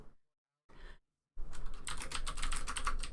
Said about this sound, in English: If you hear the keys clicking, this is me trying to get more nanos into this event